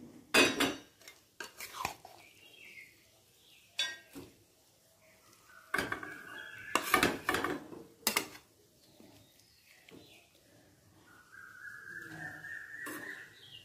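Metal spoons scrape and clink against pots as a mixed winter vegetable curry is ladled into another vessel, a series of sharp close clatters and scrapes spaced irregularly, with quiet gaps and a faint background tone.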